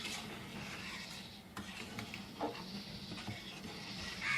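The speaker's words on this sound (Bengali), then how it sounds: "এখন আমি এটাকে ভালো করে নাড়াচাড়া করে মিশিয়ে নিচ্ছি।" Shrimp and maskalai dal stirred in a pot, with faint scraping and rubbing of a utensil against the pot over a low simmering background, no voices.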